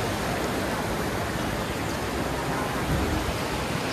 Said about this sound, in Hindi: आम नदीर पूरा फुल हो गलानी ओवरफ्लो हो गलानी